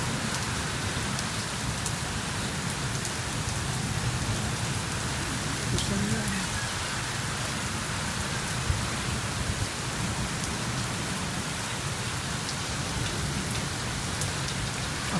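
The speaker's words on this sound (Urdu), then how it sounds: "ممکن ہے کہ پورے سندھ میں ہو رہی ہے بارش، لیکن بہرحال کراچی میں جہاں ہم ہیں اس جگہ پہ ہو رہی ہے" Heavy rain pouring in Karachi during the first summer rain, a dense steady wash of drops on surfaces, close and continuous, with faint occasional knocks.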